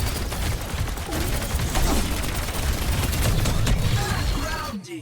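In the video game Overwatch 2, gunfire shoots a Lifeweaver tree in dense, rapid, continuous bursts that cut off just before the end.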